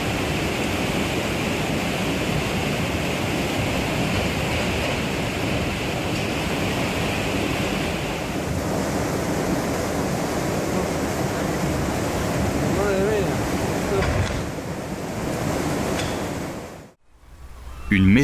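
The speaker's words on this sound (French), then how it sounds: "Les eaux étaient si violentes qu'elles balayaient des voitures de plus d'une tonne." Loud, continuous roar of rushing floodwater, a dense steady wash of noise that cuts off abruptly near the end.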